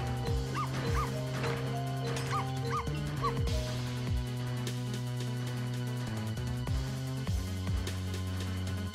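A dog yipping and whimpering in the Ghost Trick video game, a series of short bright yelps over steady synthesized game music and tones, with no one talking.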